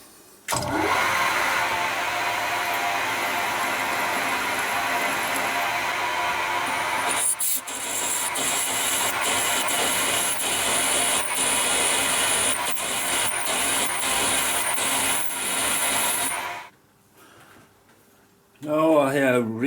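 A long drill bit bores into metal while making a spark plug thread chaser tool, a loud continuous whirring grind that pauses briefly, resumes, then stops, followed by a short burst of separate noise.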